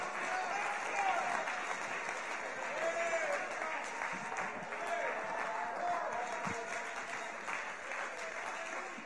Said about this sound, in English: I'm going to clap my hands.